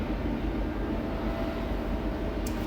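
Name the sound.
train passing by the house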